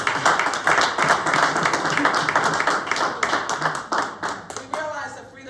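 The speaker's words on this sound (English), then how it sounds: "Let us give them a round of applause" A room of people at a district council meeting clapping for veterans, a brisk, even burst of hand claps at moderate volume that thins out and fades near the end.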